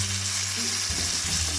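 A steak sizzles loudly in a pan of Oreo creme, a steady close hiss of frying that keeps going, with a low hum underneath that drops away partway through.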